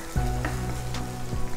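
Ingredients sizzle and fry in a hot pan with a steady close hiss, punctuated by a couple of stirring scrapes.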